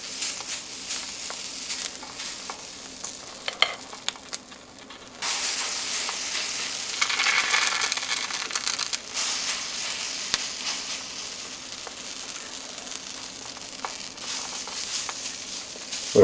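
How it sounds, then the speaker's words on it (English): Pancake batter cooking on a Lodge cast iron double-sided grill and griddle makes a continuous crackling sizzle that swells louder about a third of the way through, with occasional small pops. "Just start, dolloping some pancake batter out and making pancakes too"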